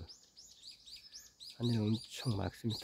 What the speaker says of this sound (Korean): 새들이 지저귀고 가네.